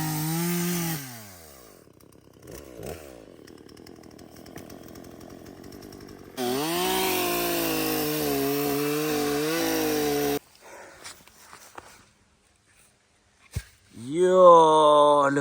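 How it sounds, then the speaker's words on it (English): A newly delivered chainsaw revs and runs in loud bursts on a farm workshop area, with engine pitch rising and falling between throttle blips and idle gaps, and a voice speaking between the runs. "my chainsaw arrived."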